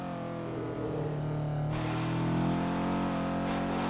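A turbocharged Mazda MX5 engine pulls hard on the Nordschleife, a loud, steady in-car drone rising in pitch, with a quick gear change midway before climbing again.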